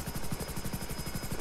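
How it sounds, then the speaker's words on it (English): A helicopter in a video game chops with a fast, regular rotor pulse and a thin whine above it, loud and constant throughout. "park my helicopter"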